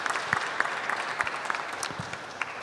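Audience applause fills a church during a parish talent event in Mérignac, a steady dense patter of many hands at moderate distance with no voices over it.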